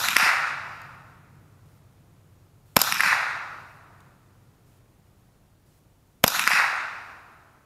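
Three sharp rifle cracks from a .22 firing Federal Spitfire ammunition, each a loud snap with a short decaying tail, spaced a few seconds apart with quiet between and no talking.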